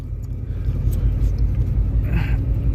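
A 1986 Ford Mustang engine idles just after startup, a steady close low rumble running alone without a break.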